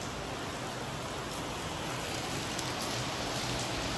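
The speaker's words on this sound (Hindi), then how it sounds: "बहुत तेज बारिश हो रही है" Heavy rain pours down in a dense, steady hiss of drops hitting surfaces, loud and constant throughout with no voices over it.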